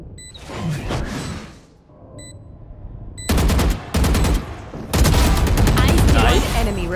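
Gunfire in the Valorant video game: several loud bursts of rapid automatic shots broken by short pauses, with voices talking between and over the shooting.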